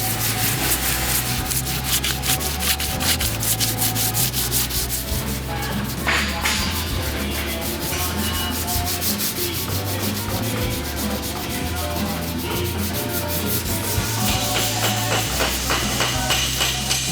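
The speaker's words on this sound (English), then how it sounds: "So I'm just sanding it smooth so when we go to paint it," Sanding a suspension part from a 1948 Chevy Cabriolet smooth, a steady, close, harsh rubbing scrape running continuously with rapid back-and-forth strokes and no talking.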